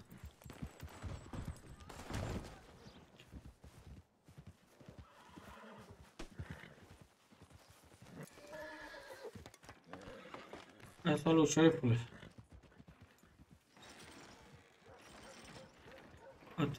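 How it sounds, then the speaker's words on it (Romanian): Horse in a Romanian roleplay video game whinnies loudly in one prominent burst, with clip-clopping hooves scattered around it, close and clear, while someone talks in the foreground over the game sounds. "Atât, ce cu calul ăla, mă?"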